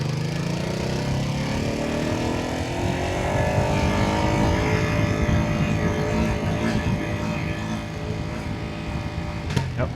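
A 2025 Ducati Panigale V2S motorcycle rolling in first gear on its pit limiter, with a loud, steady, close engine drone held at constant revs throughout, along with wind noise.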